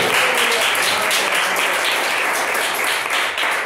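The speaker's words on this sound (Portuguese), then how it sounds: "Vamos bater palmas e glorificar o nome do Senhor" A loud, unbroken wash of clapping fills a Pentecostal church service as the congregation claps together in praise, a dense roar of many hands that barely varies throughout.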